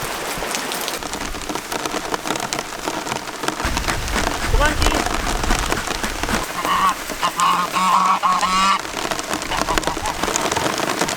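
A mama goose sitting on eggs on a homestead gives a few short honks in the second half, heard over steady rain and outdoor rustling. A person speaks briefly nearby.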